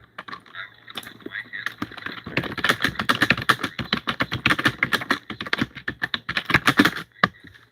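Rapid typing on a computer keyboard up close, a dense run of crisp key clicks that starts sparse, speeds into a steady flurry, then trails off with a few last taps.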